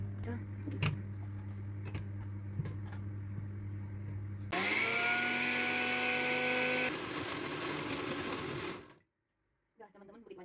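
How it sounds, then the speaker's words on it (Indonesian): Small pineapple pieces whirl in a kitchen blender: a few knife taps, then the motor kicks in with a loud whining roar that rises in pitch, runs for about four seconds, fades, and stops. "Jadi kita potong kecil-kecil, masukin ke blender."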